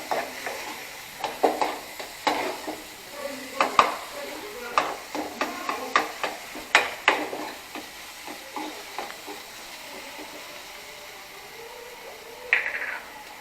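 Antum mustard greens fry in a pan at a family home in Lawngtlai, Mizoram, with a steady run of sharp stirring scrapes and clacks over a low sizzle, close by, easing off toward the end.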